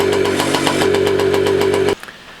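A free scooter's small engine runs roughly with a fast, uneven pulsing chug and a steady hum underneath, then cuts out abruptly, leaving near silence with a couple of faint clicks.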